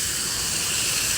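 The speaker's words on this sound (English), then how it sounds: "You hear that sizzle?" Chipotle puree hits hot oil in a pan and sizzles loudly, a dense, steady hiss filling the whole moment without a break.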